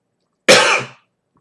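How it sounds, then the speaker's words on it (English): A single sharp cough from someone with bad allergies, close and loud, bursting out abruptly and trailing off over about half a second, with silence on either side. "I apologize if I keep coughing."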